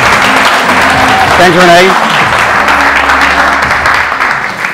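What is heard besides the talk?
audience applause welcoming the speaker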